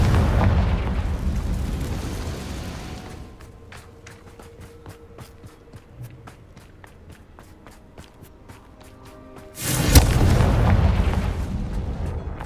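Confringo fire-blast spells erupt in the Hogwarts Legacy video game: heavy booming bursts at the start and again near the end, with a quieter stretch of rapid clicking and tapping between them.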